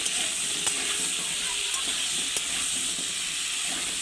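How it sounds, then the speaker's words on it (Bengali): Pointed gourd frying in oil with salt makes a dense, even hissing sizzle throughout, punctuated by a few soft clicks of stirring, close and continuous. "এবার পটল দিয়ে দিয়েছি, পটলটাও ভালো করে লাল লাল করে ভেজে নেব।"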